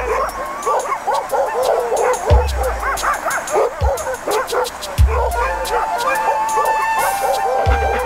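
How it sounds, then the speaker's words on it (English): Alaskan Husky sled dogs at a dog sledding camp bark, yip and whimper in a lively, overlapping chorus, loud and near, with thumps and camp noise mixed in. "Sled dogs make up the camp."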